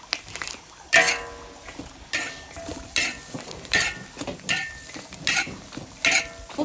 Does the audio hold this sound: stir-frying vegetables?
yes